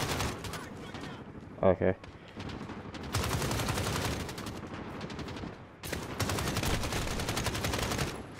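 Gunfire in Call of Duty Modern Warfare comes in loud bursts of rapid automatic shots, with a short sharp blast early on and long sustained volleys later, while a person talks briefly.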